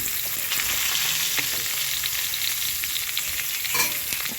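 Cut radish, beans, pumpkin and sweet potato fry in hot oil, a steady close crackling sizzle that carries on unbroken, with the scrape of stirring now and then and no voice over it.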